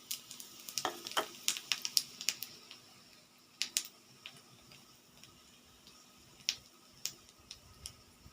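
Cumin seeds sizzle in hot ghee with dried chilies, giving faint, scattered crackles and pops in bursts and irregular ticks over a quiet background.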